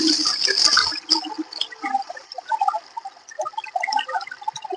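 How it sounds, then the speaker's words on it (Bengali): Rotted plant liquid fertilizer, made from decomposed garden plants, being strained: splashing, trickling liquid and drips, busiest at first and then settling into scattered small drips and patters close by. "এবার এটাকে আমি ভালো করে ছেঁকে নেব।"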